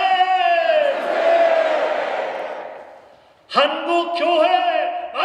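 A large crowd at a March 1st Movement church prayer gathering shouts "manse" together, two long echoing unison cheers separated by a brief pause, loud and reverberant in a big hall.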